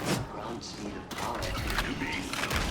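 Bursts of rapid gunfire from the video game Warhammer 40k Darktide, loud and continuous, with booming thumps under the shots.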